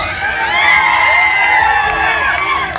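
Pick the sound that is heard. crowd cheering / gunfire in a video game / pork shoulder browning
crowd cheering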